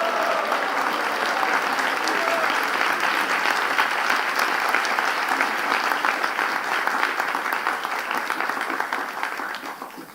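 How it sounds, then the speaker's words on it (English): Large crowd applauding a devotee at a temple gathering, dense sustained clapping that holds steady for several seconds and then slowly tapers, fairly close and loud. "Please give him a big round of applause."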